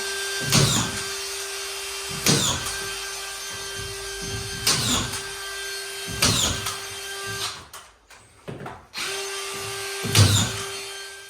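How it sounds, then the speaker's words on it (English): A drywall screw gun drives screws into a plasterboard ceiling, its motor whining in repeated bursts of about a second, with sharp thuds and clicks as each screw seats, loud and close. "what we're going to do is use drywall gun"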